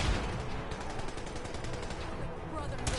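Dense, continuous gunfire in the video game Fallout 4 with a shotgun in use, a loud, broadband barrage of rapid blasts filling the whole stretch without pause.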